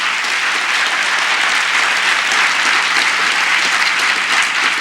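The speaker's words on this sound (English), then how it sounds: "So now you can applaud." Dense, sustained audience applause fills a large hall at a 1999 television honors ceremony, loud and steady throughout with no talk over it.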